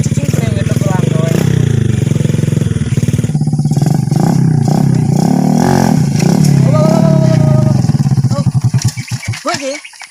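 Motorcycle engine revving loud and close for illegal street racing, a sustained rough roar with rising and falling pitch that drops away near the end, with people talking over it.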